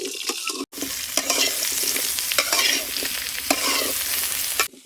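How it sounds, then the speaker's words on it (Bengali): Drumstick vegetable pieces fry in oil left over from frying eggs, a steady close sizzle with scraping stirring strokes throughout and a brief cut in sound near the start and at the end. "এবার ওই ডিম ভাজা তেলেও ডাটা গোনা ভেজে নেব।"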